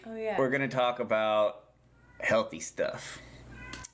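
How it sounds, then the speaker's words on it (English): Pet cat meowing repeatedly nearby in a home, a few drawn-out, loud meows, with a person talking between and over them. "Sorry about my cat."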